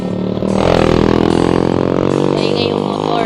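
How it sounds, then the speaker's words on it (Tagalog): A motorcycle engine roars loudly and steadily throughout on a hilly rural road in Pisaan, Philippines, rough and droning, with some rattling clatter mixed in. "Maingay yung motor."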